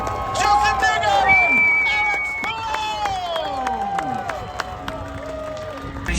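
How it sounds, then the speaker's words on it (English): Outdoor crowd at the Road America IndyCar Grand Prix cheering, whistling and clapping for the podium finishers, steady and loud throughout, with a public-address voice and whoops sounding over it. "Now a nice round of applause again for your podium finishers"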